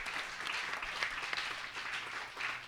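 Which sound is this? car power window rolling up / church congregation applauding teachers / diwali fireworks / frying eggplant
church congregation applauding teachers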